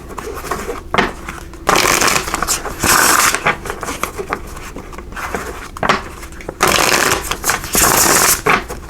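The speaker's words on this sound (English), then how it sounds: "We're going to pull some cards here from this Revelations Tarot" Revelations Tarot cards being shuffled by hand in several loud bursts of riffling and slapping, with quieter shuffling and handling between them; no talking.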